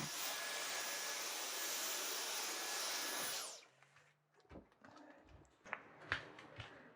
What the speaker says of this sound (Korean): 빨래를 정리하고 청소기를 돌린다.